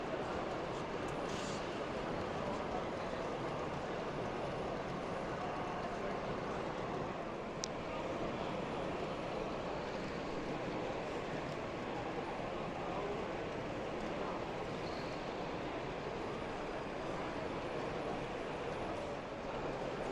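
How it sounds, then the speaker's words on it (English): Model trains run around a club exhibition layout, giving a continuous low rumble and rattle with a busy hall murmur behind it, steady throughout with a few faint clicks. "there's a complete circuit been formed, allowing the trains to actually run through the stations"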